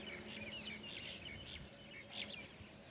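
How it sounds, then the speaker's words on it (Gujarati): Birds chirping in a quiet village at morning, faint scattered high tweets and calls over a low steady background hum, with no talking. "ફક્ત ને ફક્ત પક્ષીઓના મસ્ત સુંદર અવાજ આવે છે"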